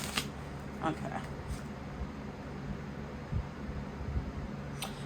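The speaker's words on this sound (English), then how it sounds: "Give it one more good shuffle." Tarot cards are shuffled close up in a few quick riffling bursts, with soft thumps and a low background hum between them.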